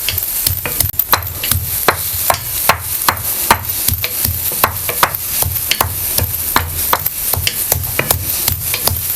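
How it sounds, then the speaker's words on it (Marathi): Garlic is crushed in a mortar and pestle with quick, regular pounding thuds, close and loud, continuing steadily throughout. "आता आपण हे थोडंसं लसूण बारीक करून घेते कलबत्त्यात म्हणजे पटापट होईल"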